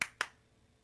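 Two sharp hand claps in quick succession, close and fairly quiet, fading into near silence.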